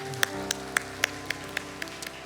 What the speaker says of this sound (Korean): 소중한 관계를 허락하신 주님께 감사의 박수를 드렸습니다